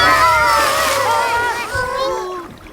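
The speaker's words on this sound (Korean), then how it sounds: "졸졸졸 물 흐르는 소리 같은데?" Cartoon water splashes and trickles underground over a bed of sliding, warbling tones, fairly loud throughout and fading slightly toward the end.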